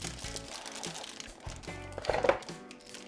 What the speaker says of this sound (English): Keyboard's wrapped in a nice layer of plastic for protection.